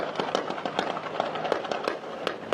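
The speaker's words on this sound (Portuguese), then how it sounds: "mostram o helicóptero da Coordenadoria de Recursos Especiais, a tropa de elite da Polícia Civil, sobrevoando o Complexo da Maré e fazendo disparos do alto" Gunfire from a Polícia Civil elite-unit police helicopter over the Complexo da Maré in Rio de Janeiro, heard as a rapid string of sharp cracking shots at irregular intervals, fairly distant and moderately quiet.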